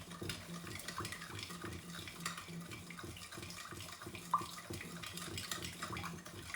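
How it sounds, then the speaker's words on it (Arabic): A sugar mixture being stirred in a bowl, with soft, repetitive scraping and swishing in a steady rhythm, quiet and close against a faint watery background. "بدي احركهم مع بعضهم."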